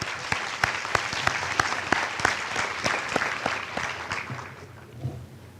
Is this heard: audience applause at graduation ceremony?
yes